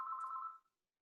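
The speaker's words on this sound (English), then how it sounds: "That's the phone, Charlie." A telephone rings once, a single clear electronic trill that cuts off after about half a second, close and fairly quiet, with silence following.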